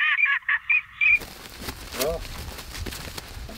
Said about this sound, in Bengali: খাঁটি হাঁসের ডাকের রেকর্ডিং আরও নির্ভরযোগ্যভাবে অন্য হাঁসগুলোকে আকর্ষণ করে।